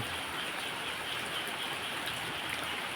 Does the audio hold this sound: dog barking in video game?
no